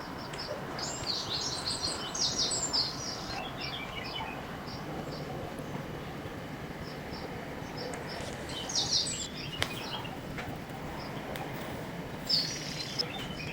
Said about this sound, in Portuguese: temos o prazer de ouvir o canto dos pássaros